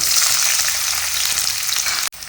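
Chopped onion frying in oil for tomato pasta, a loud, dense, continuous sizzle close up that cuts off abruptly near the end.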